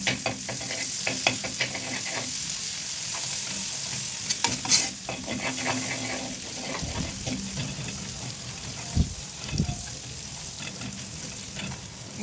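Garlic puree frying in oil in a pan for curry fried rice: a steady loud sizzle under repeated stirring and scraping, with occasional knocks and no talking.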